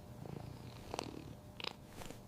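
Cats purr in a Tamil children's cartoon, a soft continuous rumbling purr with a few brief brighter clicks and rustles over it and no talking.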